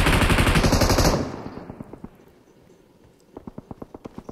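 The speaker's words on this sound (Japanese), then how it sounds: "奥からも銃声が。" A loud burst of rapid automatic gunfire in PUBG Mobile stops abruptly, followed by quieter scattered shots and then a run of evenly spaced distant pops.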